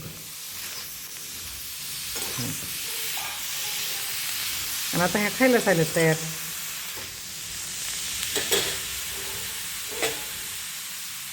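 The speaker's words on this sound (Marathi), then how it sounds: "पाणी कडक होऊ द्यायचं उकळू द्यायचं आणि त्याच्यामध्ये बी टाकायचे बी टाकून मीठ टाकायचं मीठ टाकून त्याला उकळी येऊ द्यायची" Green pea pods simmer in salted water at a rolling boil, a steady close hiss and bubbling throughout, with someone talking over it.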